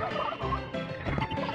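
A duck character in the Looney Tunes Back in Action video game makes a loud, close, continuous gobbling, quacking chatter that fills the moment with no talk over it.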